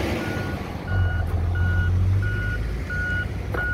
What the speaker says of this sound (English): Oh, this is heavy traffic.